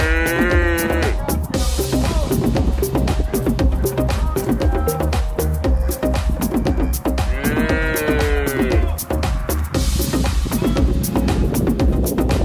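Texas Longhorn cattle moo loudly and repeatedly as two herds are brought together, long drawn-out bellows overlapping over a constant dense rumble of outdoor noise.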